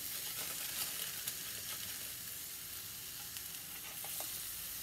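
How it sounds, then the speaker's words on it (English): Black bean beef burgers sizzling in a hot skillet: a faint, steady frying hiss with a few small crackles, continuous and without voices. "I'm just gonna plop a couple burgers on here and let this skillet do its"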